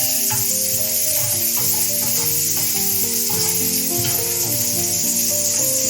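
Garlic fries and browns in oil in a pan for traditional Valencian paella, a loud continuous sizzle and crackle heard up close, steady throughout with no voices.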